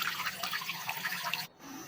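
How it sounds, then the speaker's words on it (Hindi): Fresh mint leaves and chilies are rinsed under a running kitchen tap, a steady close splash of water that cuts off abruptly near the end, leaving a quieter room tone. "अब मैं इसको धोऊंगी।"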